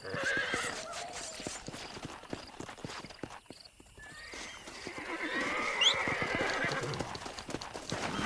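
A horse in the video game Red Dead Redemption whinnies while its hooves clip-clop in a steady rhythm, the neighing rising clearly over the continuous hoofbeats at moderate loudness.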